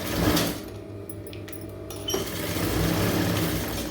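A sewing machine stitches a blouse patti, folding a single strip into a double hemming band. It gives a close mechanical whirr that stops briefly mid-way, with light clicks, then runs on steadily.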